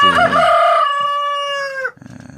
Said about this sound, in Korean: 가끔 수탉들이 울어주는 가운데